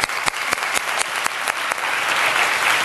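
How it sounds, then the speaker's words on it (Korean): Church congregation applauding together during a sermon, a steady dense wash of clapping with a few sharper individual claps standing out, sustained and fairly close throughout. "우리 하나님께 영광의 박수 한번 돌리면 좋을 것 같아요."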